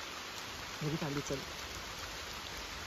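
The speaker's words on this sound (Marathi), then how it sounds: "तेव्हा पाऊस फुल जोरात चालू आहे" Heavy rain pours outdoors on a hillside, a steady dense hiss filling the whole clip, with a brief burst of voices partway through.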